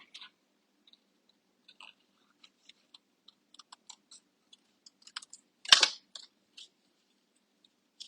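Scissors trim a small cardstock layer for a handmade card: sparse soft snips and clicks, then one louder crisp cut near the middle, close up in a quiet room with no talking.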